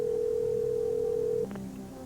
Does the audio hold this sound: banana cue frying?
no